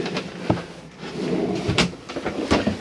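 Cupboard doors in a Hymer ML580 motorhome kitchen are handled close by, making several hollow knocks and clicks as the doors open and shut with push-button latches, with no talk.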